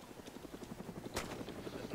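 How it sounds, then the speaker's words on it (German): A helicopter in the video game DayZ Origins 1.7.8 gives off a steady, rhythmic rotor thumping throughout, with a brief louder whoosh near the middle. "Ja, der Heli ist hier."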